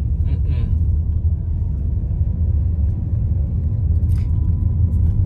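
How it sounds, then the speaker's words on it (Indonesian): Chinese Howo heavy trucks rumble loudly and steadily past near a steel factory in Kuantan, Pahang, a deep continuous engine drone with brief higher noises on top. "Banyak truk dari sini lah. Truknya truk China nih. Howo."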